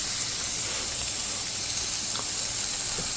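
Surf and turf searing in a hot pan during a flare-up, a steady, broad sizzling hiss that stays fairly even throughout, with no talking over it.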